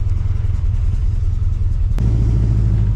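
A Chevrolet C10 pickup's big-block 454 V8 running rough with a dirty carburetor, a loud close low rumble at steady idle that swells to a heavier drone after a brief click partway through.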